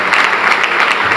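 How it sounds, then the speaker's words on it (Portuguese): A church congregation claps together in loud, dense, continuous applause. "Dá um forte aplauso a Jesus, ele é lindo, ele é maravilhoso."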